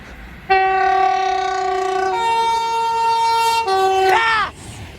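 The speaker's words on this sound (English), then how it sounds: "Passing through now is an Avanti West Coast Pendolino service to London Euston." An Avanti West Coast Pendolino passes through Cheddington station bound for London Euston, giving a loud, sustained multi-tone horn that shifts pitch partway through and is cut off by the next horn, close and with no talking.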